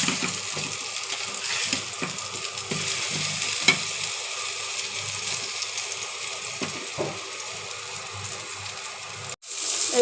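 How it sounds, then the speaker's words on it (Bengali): Slices of pointed gourd (potol) sizzle steadily in a frying pan, a continuous close crackle with occasional soft stirring clinks and no talking. "এই তো পটল ভাজি হচ্ছে।"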